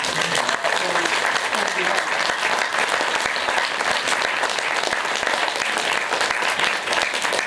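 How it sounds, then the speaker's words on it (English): Sustained, dense applause from a large conference audience at a final plenary session, an even wash of clapping that holds steady throughout without pause. "I'd like to give a round of applause to Diane"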